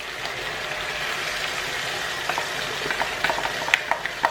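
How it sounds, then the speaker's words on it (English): Egg frying in a pan of cooking vegetables for coconut fried rice, a steady close sizzle with soft scraping and a few sharper crackles toward the end, no talking. "So we add the egg."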